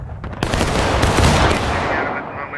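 A near-simultaneous volley of rifle fire from a line of Civil War reenactors aiming into bushes, one loud ragged burst of overlapping shots with a rolling echo that fades out over a couple of seconds.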